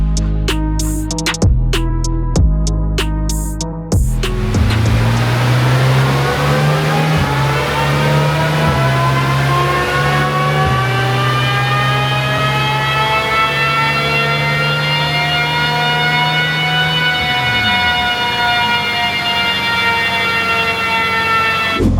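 Lamborghini Revuelto with a Gintani widebody build, engine revving hard on a dyno: a few sharp blips open it up, then a long, loud, steady pull with a rising whine that sweeps up and eases off near the end, no talking.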